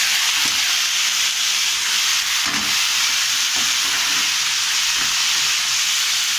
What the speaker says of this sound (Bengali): সবকটা সবজি 2 মিনিট ধরে এরকমভাবে নেড়ে নেব